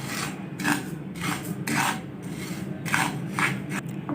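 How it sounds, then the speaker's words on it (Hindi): A spoon scrapes and stirs sugar melting in a pan over a low flame for caramel, making repeated rhythmic rasping strokes about twice a second, close and clear, with no talking. "चम्मच चलाते हुए।"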